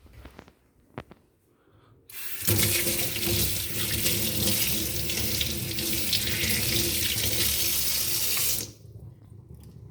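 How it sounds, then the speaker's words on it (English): Hands being washed under a running kitchen tap while making pancakes: the water comes on abruptly, splashes in a steady loud stream for about six seconds, then stops. "let me wash my hands."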